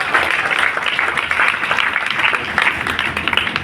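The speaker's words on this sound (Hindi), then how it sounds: "इनके लिए ताली बजाइए।" An indoor audience at a devotional gathering claps steadily for several seconds, a dense, even wash of applause.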